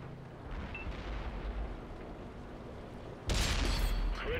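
A tank cannon fires in the World of Tanks video game, one sharp, loud blast near the end that breaks a low rumbling engine drone and leaves a crackling, ringing tail.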